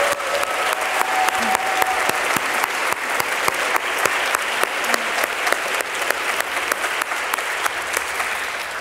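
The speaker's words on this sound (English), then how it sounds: "can we please have one more round of applause for all of tonight's honorees?" An audience at a dance conference honors ceremony claps for the honorees, a sustained, dense round of applause with sharp individual claps standing out, steady and loud throughout.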